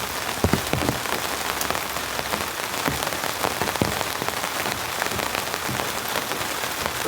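Heavy rain pounds steadily on a compact van during a rainstorm, a dense continuous patter with occasional louder drops close by and no voices.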